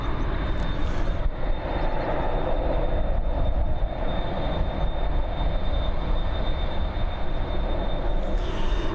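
A Ryanair Boeing 737 departing Dublin Airport for Lisbon gives a loud, continuous jet engine roar that holds steady for the whole stretch, with a thin high whine above it and no voices.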